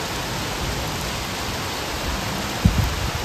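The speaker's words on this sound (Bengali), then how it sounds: "এই দেখো কিরকম বৃষ্টি আরম্ভ হয়েছে ব্যাঙ্গালোরে" Heavy rain pours down in Bangalore amid gusty wind soaking tree leaves, a dense, loud, unbroken hiss with one brief thump near the end.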